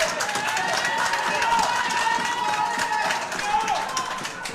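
Crowd noise at an Ultimate Pool match at the El Olivar Palace Hotel in Marrakesh, a steady murmur with scattered claps and cheers running under a commentator's voice throughout.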